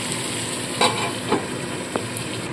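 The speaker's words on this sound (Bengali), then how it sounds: "সামান্য নুন হলুদ দিয়ে আলুগুলো ভাজতে হবে" Potatoes seasoned with salt and turmeric fry in a pan with a steady close hiss, broken by a few soft stirring scrapes, no talking.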